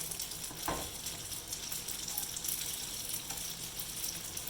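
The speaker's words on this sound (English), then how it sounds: "I'm going to add the garlic I had chopped up." Chopped garlic goes into a sizzling pan for a morel mushroom Alfredo sauce, giving a soft, steady frying hiss after a brief clatter near the start, with no talk.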